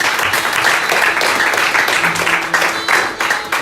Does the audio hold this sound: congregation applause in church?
yes